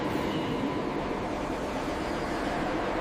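An underground Kolkata Metro train running beneath the city gives a steady, loud, continuous rumble and roar with no pauses and no voices.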